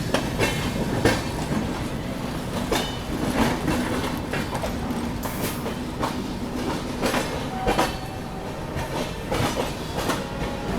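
The 22159 Chennai Express rolls out of Mumbai CSMT, a steady rumble of rail cars with a rhythmic clickety-clack of wheels over rail joints, close and continuous.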